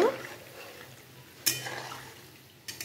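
Fried lentil fritters (bora) are lifted out of hot oil, with a soft ongoing sizzle and a couple of sharp utensil clinks against the pan.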